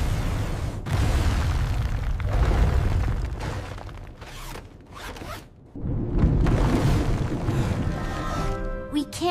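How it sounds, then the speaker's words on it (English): A cartoon undersea siphon blast, fired in an Octonauts rescue deep in the Mariana Trench, roars as a dense rushing whoosh with rumbling bursts and brief drops, ending in bubbly chirping tones. "The siphon blast was working!"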